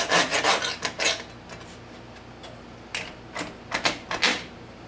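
A blade saws through plastic material in a run of rasping, scraping strokes, close and fairly loud, bunched at the start and again near the end with a quieter stretch between.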